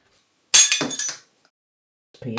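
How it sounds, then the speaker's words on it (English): Small pieces of glass clatter and clink sharply as they are set onto a fused-glass artwork, one short burst of bright chinks, then near silence before a brief final clink. "I'm going to embellish it with various pieces of glass."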